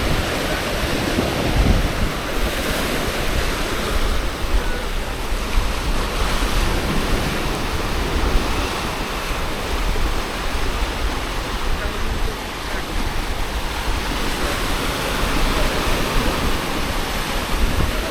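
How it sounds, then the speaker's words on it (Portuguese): Ocean waves break and wash continuously on Canasvieiras beach, a sustained roaring surf with swelling crashes, mixed with wind noise on the microphone. "umas ondas consideráveis"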